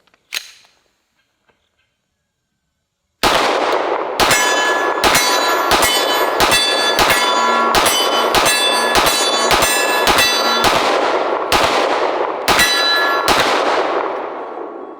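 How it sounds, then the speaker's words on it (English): A pistol fitted with a red dot sight fires a rapid string of about a dozen close, loud shots at a steel target, each crack followed by a short metallic ring, after a brief quiet start. "I'll go ahead and unload this on that steel target"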